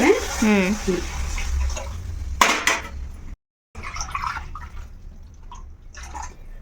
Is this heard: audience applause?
no